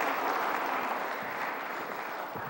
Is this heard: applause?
yes